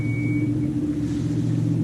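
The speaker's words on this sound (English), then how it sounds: "Beautiful race brakes right there" Cold race brakes on a bagged 2013 Mustang GT 5.0 give one brief, thin high-pitched squeal while the car slowly backs out, set against a steady low engine rumble with no talk.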